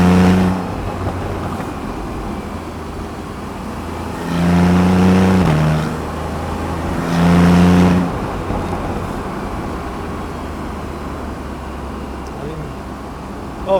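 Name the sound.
Porsche 911 991.1 Carrera S engine accelerating in sport mode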